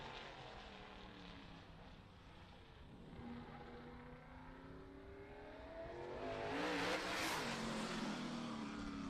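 A race car on a Hornet chassis runs laps during qualifying at an oval track, its engine droning steadily at a distance and then swelling louder as it passes close by near the end.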